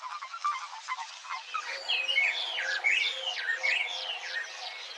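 Oxpecker birds in the African bush give a run of repeated sharp, twittering calls, fairly close and lively, which build into a busy chatter over a few seconds.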